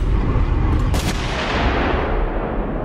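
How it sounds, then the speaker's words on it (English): A single loud gunshot cracks from a movie soundtrack in a zombie horror film scene, standing out briefly against a dense, roaring background. "he decides to use his final bullet on a zombie instead of himself"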